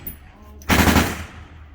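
Rifle fire from a played clip, with no optical sight on the rifle: a sudden loud burst of rapid shots that runs about half a second, then fades out. Faint background noise comes before it.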